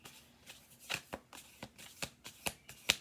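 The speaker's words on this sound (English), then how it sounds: "I'm going to do 2 more shuffles." A handful of quick papery oracle card shuffles, close and distinct, each a sharp flutter spaced about half a second apart.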